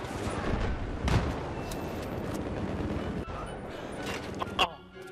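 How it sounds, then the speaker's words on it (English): Loud, continuous Battlefield 3 combat noise with heavy booming blasts that fit frag grenade explosions, one sharp burst near the start and more near the end, mixed with gunfire and shouting. "Throwing grenades at us."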